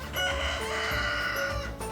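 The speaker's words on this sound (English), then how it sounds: "That's a buck rooster right there. He's making all sorts of noise." A rooster crows loudly and close by, one long strained call over a busy farmyard background.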